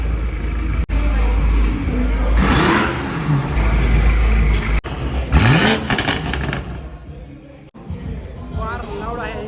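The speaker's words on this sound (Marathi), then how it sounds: "हा होता कोल्ड स्टार्ट गाईज." Loud V8 car at an underground car meet roars through a cold start and revs, with rising and falling engine sweeps up close, people talking over it.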